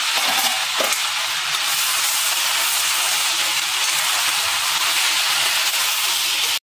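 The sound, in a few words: garlic sizzling as it is added to the pan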